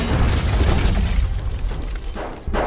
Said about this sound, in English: he throws 2 grenades at the witness's feet and walks away calmly